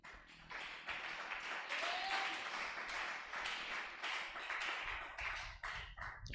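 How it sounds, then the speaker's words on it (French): A church congregation at a French-language teaching service stands and applauds, producing a steady, dense wash of clapping and cheering that continues throughout without pause. "On se lève en acclamant pour Jésus."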